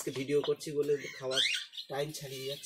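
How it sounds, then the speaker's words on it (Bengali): Pet birds in an aviary squawk repeatedly and harshly, waiting for feeding time, while someone talks over them at close range. "আমার পাখিরা সব ডাকাডাকি করছে, আপনারা শুনতে পাচ্ছেন।"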